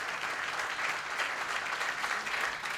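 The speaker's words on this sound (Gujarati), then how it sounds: "ત્રણેય કલાકારોને તાળીઓથી વધાવો" An audience at a Gujarati comedy show in Mumbai claps steadily for three comedy performers, a dense, continuous wash of applause at moderate level with no talk over it.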